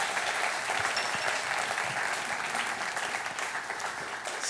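Audience applause at a fashion festival event, a steady wash of clapping from a crowd that holds fairly even for several seconds before easing slightly.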